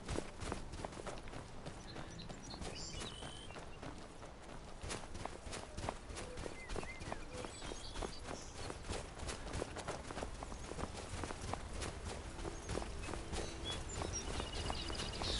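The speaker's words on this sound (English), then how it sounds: "It's a lovely sound of gentle footsteps." Steady footsteps walking on ground in the Skyrim video game, a continuous, even rhythm of soft steps running throughout at moderate volume, with no talk over them.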